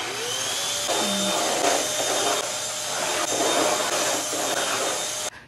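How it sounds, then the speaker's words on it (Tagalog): A household vacuum cleaner runs with a steady high-pitched whine and airy rush, close by, holding constant for several seconds before cutting off abruptly at the end. "So mag-start na tayo at ito na yung vacuum ko."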